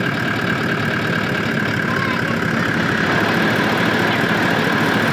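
A vehicle engine idles with a steady, close, mid-pitched rumble and a faint knock while gears change on a remote Outback track. It runs continuously without clear revving.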